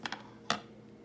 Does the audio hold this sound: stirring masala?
no